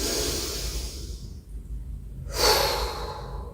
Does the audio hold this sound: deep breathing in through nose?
yes